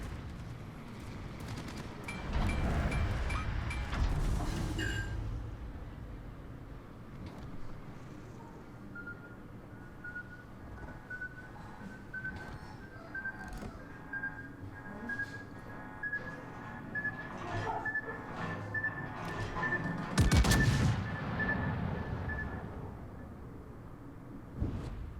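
Japanese battleship Yumihari fires HE shells in the naval game World of Warships, heavy booming salvos at the start and again later, with a rumbling engine drone and a thin whine between volleys.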